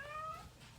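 A house cat gives one short, clear meow, close and alone against quiet room tone.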